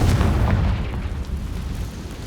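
A Confringo blasting spell goes off in the video game Hogwarts Legacy: a loud, deep booming blast whose rumble rolls on steadily for about two seconds.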